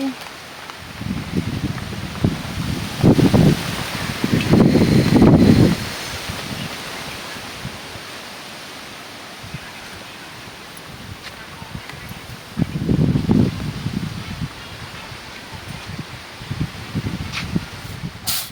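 Gusts of wind buffet the microphone in bursts in a village, with a rustling, rain-like hiss running underneath.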